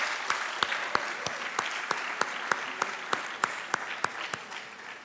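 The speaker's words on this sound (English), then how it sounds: "Big round of applause for all those folks and work they've done." Applause at a high school senior academic awards ceremony, a sparse, quiet scattering of claps with several distinct sharp hand claps standing out in a steady rhythm.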